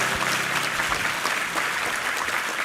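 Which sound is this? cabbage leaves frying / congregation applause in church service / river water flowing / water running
congregation applause in church service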